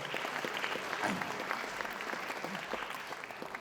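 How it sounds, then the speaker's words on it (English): Steady applause from an audience at a memorial lecture, a dense patter of clapping that holds evenly throughout with no voices rising above it. "With your applause, ladies and gentlemen, for the SSR Memorial Lecture, Sri Surendra Dayal, GOSK."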